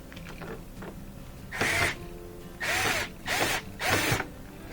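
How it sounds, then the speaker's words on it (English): A Phillips head screw is loosened on a front-load washer's moldy door boot with a drill, giving four short, loud whirring bursts separated by pauses. "I have to loosen up this screw, which appears to be Phillips head"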